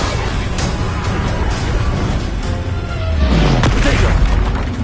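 During Hogwarts video game combat, a Bombarda blasting spell detonates, its deep boom swelling low and loud near the end after a busy stretch of crackling spell effects; no one talks.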